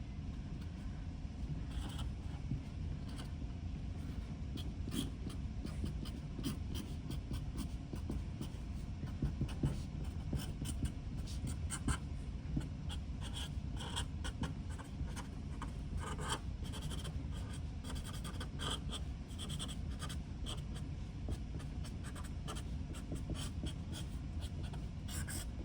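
A colored pencil scratches steadily across paper while a bird drawing is filled in, with close, continuous scribbling strokes in an uneven rhythm and no talk over it.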